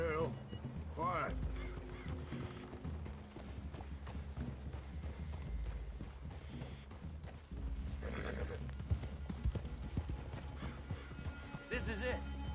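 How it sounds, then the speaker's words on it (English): Horses' hooves clip-clop steadily through a clearing in Red Dead Redemption 2, with an occasional whinny, close and moderately loud over game music and ambience. "I'd leave your horses the other side of this clearing"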